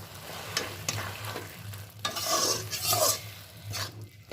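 Tivra bhaji greens being stirred in a pan as they fry, a soft scraping and rustling of the leaves over a low steady sizzle, fairly quiet and with no voice.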